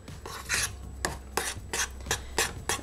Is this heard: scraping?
yes